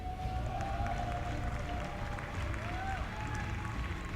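A large arena crowd at the League of Legends Grand Final of the 2016 eSports World Championship in Jakarta keeps up a steady, distant roar of cheering and clapping, with faint whistle-like tones gliding over the continuous din.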